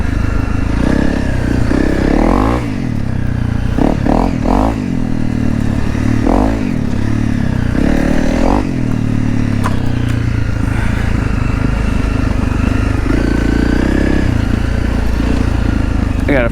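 Honda CRF 300 Rally motorcycle on a trail ride, its engine droning loud and close throughout with rising and falling revs, clattering over rough ground, with a voice speaking over it.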